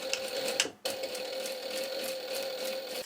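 A sewing machine stitches around a butterfly template in black thread, giving a fast, even mechanical whir with a brief pause just before the one-second mark, then continuous stitching, close and fairly quiet.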